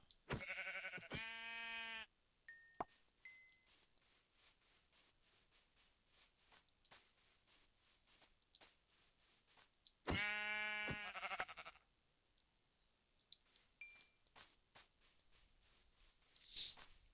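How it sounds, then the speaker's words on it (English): Sheep in the video game Minecraft bleat in two short bursts of wavering cries, separated by a long stretch of faint clicks and scattered taps, all fairly quiet with no talking. "now we've got a white sheep"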